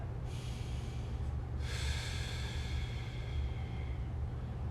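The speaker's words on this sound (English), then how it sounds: "Take a nice deep breath in." One deep breath in through the nose during a mobility exercise for the upper back and shoulders, a close, airy inhale with a short pause and then a longer second draw, over a low steady room hum.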